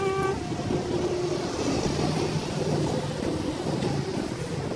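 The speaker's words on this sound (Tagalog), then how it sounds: "may mga dumadaang sasakyan" Cars and other vehicles pass along a road near a shopping mall in Singapore, a steady faint rumble and hiss of passing traffic heard from the roadside with no talking.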